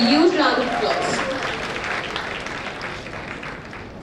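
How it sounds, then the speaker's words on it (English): An audience at the 2023 African students' congregation ceremony at Lovely Professional University gives a big round of applause to welcome a speaker onto the stage. A brief voice opens the clip, then dense, sustained clapping fills the hall and slowly tapers. "Can we all welcome him on the stage with a huge round of applause?"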